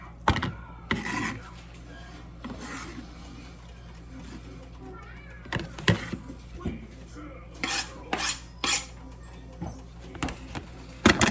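Chopped bok choy is tipped into a small bowl in a home kitchen, bringing a string of light clinks and scraping knocks of dish and utensil, sharp transients bunching toward the end over a low steady hum.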